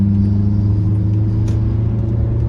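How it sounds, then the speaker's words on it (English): Steady low road and engine rumble from inside a car stuck driving behind a truck, continuous and fairly loud with a brief higher hiss midway. "dang, how'd I get stuck behind this truck?"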